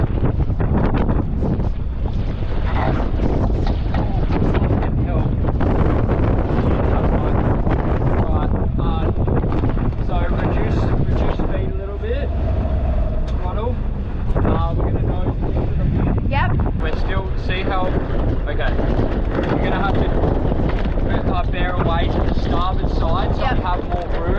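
A sailboat driving through strong wind, with heavy, steady wind buffeting across the microphone and water rushing past the hull throughout, while people talk intermittently over it.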